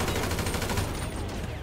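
Rapid gunfire in GTA 5, a dense burst of shots in quick succession that thins out toward the end, with no talking.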